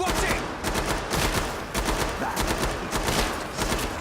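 Rapid gunfire from firearms in the video game Killing Floor 2, dense bursts and repeated shots filling the scene loudly and continuously without a break.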